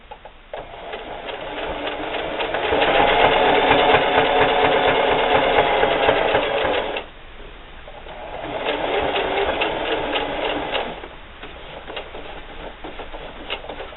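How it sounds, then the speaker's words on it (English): A sewing machine stitching down the side of a denim wallet, running loud and steady for several seconds, pausing, then whirring again in a second shorter burst. "just continue to sew down the side."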